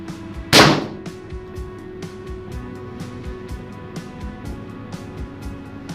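Airsoft Glock 18C pistol fired at a target 5 meters away: one sharp, loud crack early on, followed by a quieter background with faint ticks and low hum, no talking.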